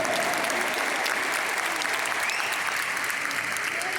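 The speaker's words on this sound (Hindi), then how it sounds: "आप अपने लिए जोरदार ताली बजाइए" A large audience at the Amway Star Award 2023 gives loud, continuous applause, a thick steady roar of clapping from a packed hall with no pause.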